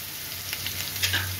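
Steady sizzling of potatoes frying in a pan, with a low hum underneath and occasional soft stirring scrapes.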